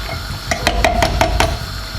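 Pasta and beans drop into a big pot of simmering minestrone soup, a run of about six sharp clinks and rattling taps in quick succession over a low steady background rumble.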